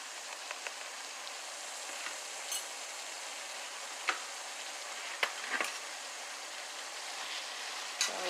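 Ground turkey for chili sizzles quietly in a pan, with a steady frying hiss broken by a few scraping stirs and taps of the utensil.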